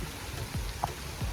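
Heavy rain falling outdoors, a steady dense hiss of downpour with a few low thuds and a brief tone over it, close and without voices.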